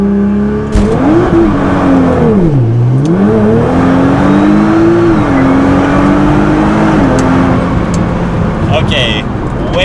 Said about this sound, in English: we are going to fully launch everything, keeping it in automatic just to take the human error out of it. Launch control, automatic, full race, everything.